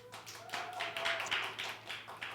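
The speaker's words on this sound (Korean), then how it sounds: "큰 박수 감사드립니다." Clapping from a class audience at a Korean Bible lesson on the New Testament, a few seconds of scattered, uneven hand claps at moderate level over a faint steady hum, with no voices.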